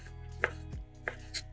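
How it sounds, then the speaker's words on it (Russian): A knife cuts sausage rounds into sticks on a board, making two or three crisp, close chopping knocks with no voices. "Получившиеся кружочки режем брусочками."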